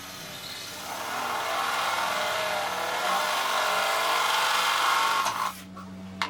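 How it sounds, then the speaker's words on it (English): A close power drill runs continuously for several seconds with a steady whine, then stops with a couple of faint clicks; no voices. "And then we will drill the second hole."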